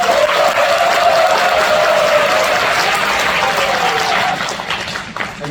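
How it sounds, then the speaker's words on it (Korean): A lecture audience breaks into applause at a talk on the economy, steady, dense clapping that fills the room for about four seconds before thinning and fading out. "중간 박수 한번 부탁드립니다."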